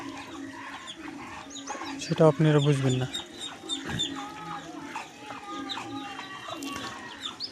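Chinese (Muscovy) ducks on an Assam farm give a burst of loud fowl calls, then scattered softer calls, while someone speaks over them.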